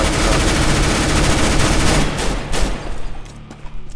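Dense, sustained gunfire from a Counter-Strike: Global Offensive match, a loud continuous volley for about two seconds that thins into scattered, sharper shots toward the end, with no talking.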